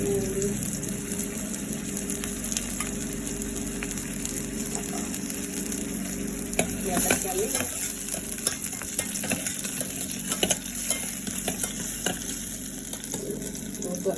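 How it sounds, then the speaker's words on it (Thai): Garlic and plenty of chili stir-frying in oil with minced pork in a small condo kitchen, a bright continuous sizzle with scraping spatula strokes, close and fairly loud, no talk. "ใส่กระเทียมนะคะ แล้วก็พริก ชอบกินเผ็ดมากใส่พริกเยอะหน่อย"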